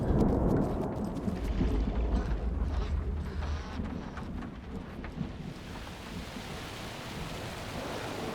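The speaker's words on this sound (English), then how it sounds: "Rain pressing against the windows!" Heavy rain pours steadily against windows in the video game Alan Wake II, a dense, loud hiss with low rumbling that gradually eases and thins toward the end, with no talking.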